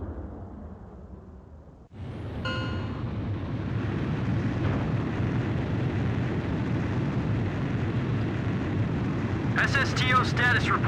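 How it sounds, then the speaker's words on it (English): A cruise missile strikes a mass driver in the video game Ace Combat 5. A sudden loud blast comes in about two seconds into the clip, then swells into a sustained, roaring, rumbling wash that runs to the end. "Mass driver hit by cruise missile."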